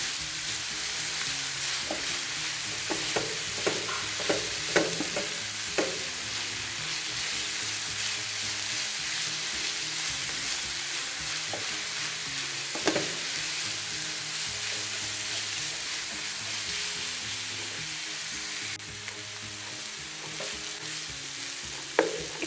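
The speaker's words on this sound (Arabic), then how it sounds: "ودابا غادي ندير التوابل." Spices being stirred into a frying pan for a savory puff-pastry tart, with a steady close sizzle and intermittent scraping stir strokes throughout, no voices.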